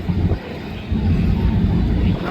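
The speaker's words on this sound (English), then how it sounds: "Here comes the CH-53 Super Huey. I'm sorry, Super Stallion." A USMC CH-53E Super Stallion helicopter at an airshow, a steady loud low rotor and engine roar with wind buffeting the microphone.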